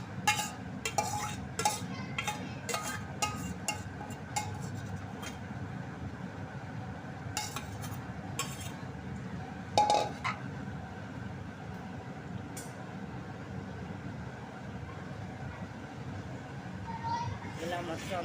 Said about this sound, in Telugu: ఇలా మొత్తం అంతా కూడా కదిపేసుకోవాలన్నమాట ఫ్రెండ్స్.